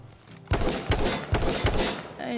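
Video game gunfire in a multiplayer shooter, four heavy rapid shots in a quick irregular burst, loud and close, with a faint electronic tone trailing after.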